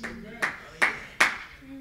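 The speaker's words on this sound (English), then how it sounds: "I got a hand clap over here." Three sharp hand claps ring out at an even pace during a church service, each crisp and close, with a voice murmuring faintly around them.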